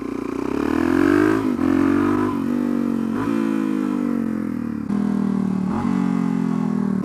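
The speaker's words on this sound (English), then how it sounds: "I'm on the throttle, off the throttle, clutch in, down the gear, let the clutch out." A motorcycle engine steps down through gears under engine braking, its loud, close harmonic drone dropping and then rising again after each of several clutch-and-shift breaks over a few seconds, with no throttle applied.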